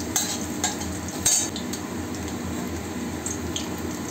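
Garlic stirred in hot oil in a pan, a steady close sizzle with a few brighter scrapes and clinks of a utensil near the start, no voices.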